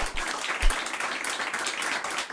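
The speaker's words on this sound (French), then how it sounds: "C'est bon les gens, vous pouvez applaudir avec le point d'exclamation clap" Applause sound effect triggered by a stream chat clap command, a dense, continuous wash of clapping that stays fairly loud and even from start to finish, with no speech over it.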